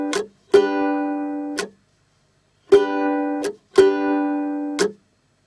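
Muted ukulele strums played as short percussive chops, each a bright rattling chord that rings briefly then is cut off, in uneven groups with pauses between, close and alone.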